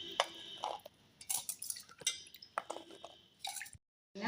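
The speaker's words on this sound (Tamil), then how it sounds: "இப்போ இது மாதிரி தண்ணியில் போட்டு நம்ம இதை அலசி ஒரு பாத்திரத்தில் எடுத்து வச்சுக்கலாங்க" Crushed green turkey berries are rinsed by hand in a vessel of water, making close, irregular splashes, drips and squishy sloshes with brief pauses and a short silence near the end.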